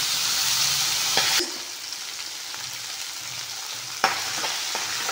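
Cumin, pepper, tomato and tamarind fry in a pan for garlic chutney, a steady broad sizzle with brief stirring clicks, the hiss dropping lower after a clatter partway through and a sharp scrape near the end, no talking.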